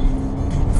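A car pulls away on the M-4 Don highway in Rostov Oblast after a nearly two-hour traffic jam, its steady low engine rumble and road noise close and continuous throughout.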